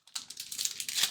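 Crinkly tearing of Upper Deck SP Authentic hockey card packs being ripped open: a brief close foil rip that starts abruptly and continues as steady crackling, with no speech.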